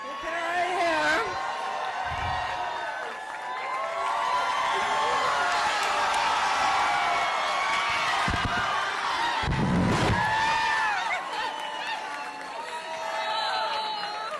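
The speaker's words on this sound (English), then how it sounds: "they can actually show a crowd in that room" A crowd packed into a room cheers and whoops at a political victory event, a sustained roar of many voices that swells and holds, with a voice speaking over it at times.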